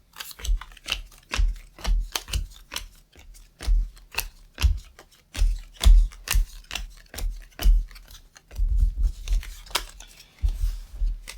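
Repeated crisp snipping and riffling of game cards being shuffled, in quick rhythmic bursts close by, with no talking.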